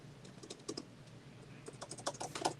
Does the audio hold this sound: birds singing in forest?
no